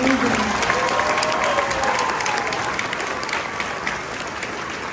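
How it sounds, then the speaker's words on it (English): Audience gives a sustained round of applause for a middle and high school choir after a concert, dense steady clapping with some voices mixed in, slowly easing off. "Give our wonderful high school and middle school choir another round of applause."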